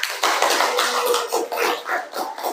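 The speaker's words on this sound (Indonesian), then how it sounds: "Beri tepuk tangan buat kita semua." Students in a classroom applaud together, a dense, close burst of clapping that swells and dips briefly before fading.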